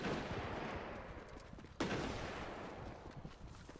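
Gunfire in a multiplayer video game firefight, a dense continuous rumble of shots with one sharp, louder report cracking through midway, fairly distant and dull.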